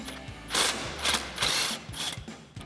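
Four short bursts from an impact wrench with an 18mm socket work an 18mm nut loose on Ford F-250 steering, each quick rattling hammer separated by brief pauses, close and fairly loud.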